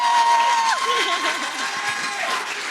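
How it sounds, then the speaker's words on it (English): Audience at an SDR and SDR Manager awards event in a grand hotel ballroom applauds and cheers for the year's top SDR leader, a steady, dense wash of clapping and crowd noise sustained throughout, with some voices mixed in. "big round of applause for this year's top SDR leader"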